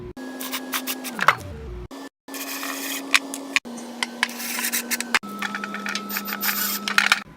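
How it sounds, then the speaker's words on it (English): An electric drill drives screws to fasten an extra board onto a wooden storage bench; the motor whirs in several short bursts, one winding down in pitch, with small knocks and rubbing between runs. "Now we're going to add an extra board. You can see I put Greg jigs in, so we're going to screw it down."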